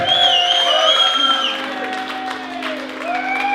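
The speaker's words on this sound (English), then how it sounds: "let's have a big cheer and a big round of applause" Wedding guests applaud and cheer for a newlywed couple's first dance, a loud, steady wash of clapping with whoops and sustained tonal sounds over it, easing slightly halfway through.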